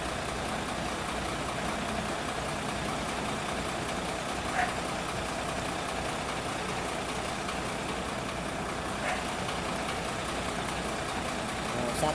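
Vehicles sit idling in a long traffic jam on Maharlika Highway, a continuous low rumble of truck and car engines with a faint beep now and then, steady and moderately distant throughout.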